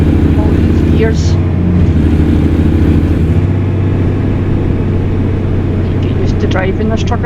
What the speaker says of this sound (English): Driving this truck again.